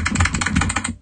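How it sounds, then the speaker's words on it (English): Clicky keyboard sound effect from the Opera GX browser, a quick run of crisp, evenly spaced key clicks as someone types steadily for about a second, close and alone. "this one's more of a clicky keyboard"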